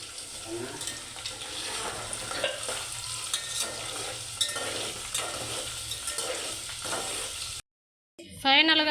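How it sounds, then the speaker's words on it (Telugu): Tempering seeds sizzle and crackle in hot oil while frying for an amla pickle, a steady close sizzle with spoon stirring scrapes, ending with a brief cut to a different sound. "తాలింపు గింజలు అయితే వేసేసాను"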